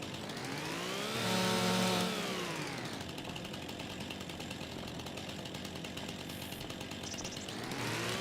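In Farming Simulator's Riverbend Springs, a chainsaw revs briefly to a high pitched whine, drops back, then grinds on loud and steady through cutting before rising again at the end, with no speech.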